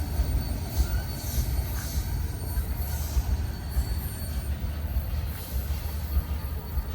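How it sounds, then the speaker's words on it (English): A train rolls past on railroad tracks with a steady, heavy rumble and a faint wheel squeal that keeps up for several seconds. "Hey, I hear another train."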